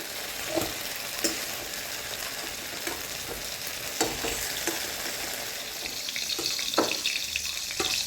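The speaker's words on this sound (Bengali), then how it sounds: "ভেন্ডিগুলো আমাদের ভেজে নেওয়া হয়ে গেছে" Okra frying in hot oil crackles and sizzles continuously, with occasional sharper pops and clinks of stirring scattered across the steady hiss.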